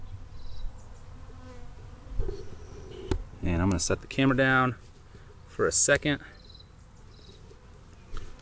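Bees buzzing close around a beekeeper as a hive is opened, a steady insect drone running beneath a man's nearby speech.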